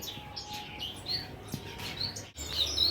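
Finches chirp in a breeding farm, several thin, high tweets repeating across the moment against a faint background hum, with occasional light rustling.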